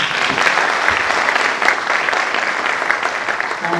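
Loud, dense clapping from a large graduation ceremony audience in Kenya, a continuous roaring wash of hands with no gaps, close and sustained throughout.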